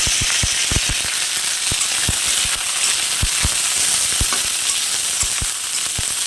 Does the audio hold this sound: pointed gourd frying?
yes